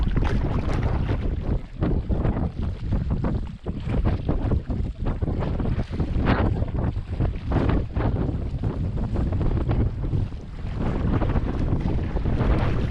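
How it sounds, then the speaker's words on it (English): A boat runs through a class 1 river rapid on the Churchill River, with continuous rushing water and heavy wind buffeting throughout, steady and loud with no voices. "We're coming up at a class 1 rapid."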